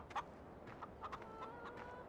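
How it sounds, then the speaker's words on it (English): Chickens on a farm in the Farming Simulator 17 video game cluck in a few short, sharp bursts over a steady low ambient bed, moderately distant and soft, with no talking. "We've got our chickens right here in the back"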